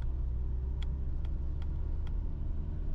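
A 2022 VW Transporter TDI van cruising on a motorway, with steady low road and engine rumble filling the cabin and a few faint, brief clicks over the drone.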